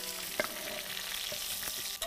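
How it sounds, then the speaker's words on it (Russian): Onions fry in a pan in the juices left from browning meat, a quiet steady sizzle broken by a few soft clicks of stirring. "Лучок обжаривается"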